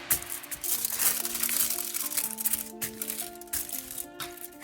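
Aluminum foil folded over with the shiny side up, a dense continuous crinkling and crackling close by, steady throughout with brief sharper crackles.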